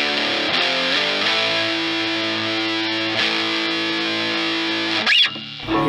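An electric guitar played through a Behringer Hellbabe wah pedal with a distortion tone, loud and sustained, with ringing chords and a sharp filter sweep near the end before a brief drop.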